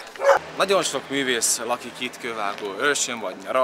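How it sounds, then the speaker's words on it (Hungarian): Village dogs in Kővágóörs bark and yip in the background, fairly distant and partly masked by a person speaking steadily over them. "Kővágó őrsön annyira ugatnak a kutyák"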